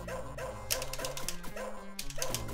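Ninja's dog in the arcade game Shadow Dancer: a string of short, yappy barks over chiptune music, repeating in a quick rhythm across the clip.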